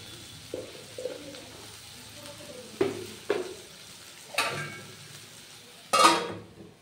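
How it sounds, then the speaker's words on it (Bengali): Onions frying in a pan hiss at a low level while a spoon scrapes and clacks against the metal in several separate strokes, the last ones louder and closer. "পেঁয়াজটা অনেকটা ভাজা হয়ে গেছে, এবার আর একটুখানি নুন দেবো"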